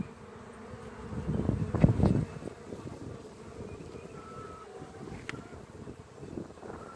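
A honey bee swarm buzzes steadily at a hive beside a fallen apple tree in Kentucky, a dense droning hum that swells briefly, with light wind noise.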